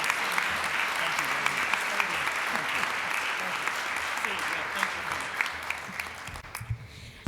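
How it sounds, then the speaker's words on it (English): Members at a Rotary club meeting applaud speaker Jeff Berding, sustained crowd clapping at a moderate, slightly distant level that thins into scattered claps and then stops near the end, with faint voices underneath. "So let's give Jeff another round of applause."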